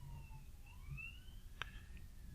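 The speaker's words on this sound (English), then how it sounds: "Oh, That is a fire truck." A fire truck siren passes at a distance, faint wailing tones sliding up and down under steady street noise, with one brief sharp click partway through.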